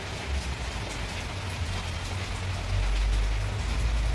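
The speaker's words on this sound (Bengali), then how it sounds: "সারাদিন বৃষ্টি কনস্ট্যান্ট, কদিন ধরে টানা।" Constant heavy rain pours down in a steady, dense, unbroken hiss, swelling slightly louder near the end, with no voices.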